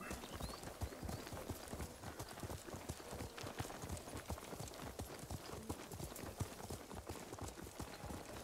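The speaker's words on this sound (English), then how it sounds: "I like your horse, Kenji." Rhythmic clip-clop of horse hooves at a steady trot in the video game Ghost of Tsushima, close and continuous, with an occasional faint whinny in the background.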